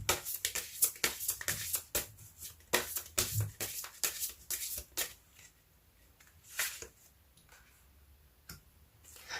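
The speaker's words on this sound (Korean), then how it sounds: "조언점 카드 한 장 더 뽑아볼게요." Tarot cards being shuffled and drawn for a monthly money-luck reading, a run of close, crisp riffling snaps and flicks in irregular bursts that thin out into sparse soft clicks, no talking.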